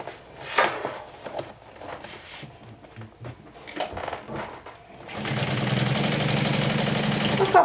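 A sewing machine stitching a bag's lining and main fabric together. A few clicks and handling taps come first, then the motor starts and runs in a loud continuous whirring hum to the end.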